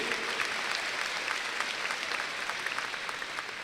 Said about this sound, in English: Let's give that school a big round of applause for being an A